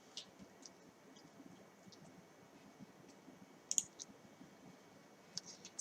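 Faint, sparse mouse clicks in the PhotoScape X photo editor, a few small isolated ticks scattered over quiet room noise, one slightly sharper click near the end.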